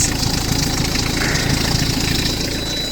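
A Ford Fiesta with a 1.8D diesel engine runs steadily just after a cold start at around minus seven degrees, its close, even idle carrying a faint rhythmic knock.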